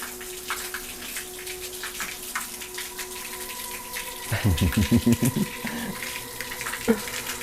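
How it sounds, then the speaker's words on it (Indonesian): Water pouring from a clear spring-fed spout at a graveside site, a steady splashing flow with a stronger gurgling surge midway, near and continuous. "inilah pancuran yang tadi kita sebut ya"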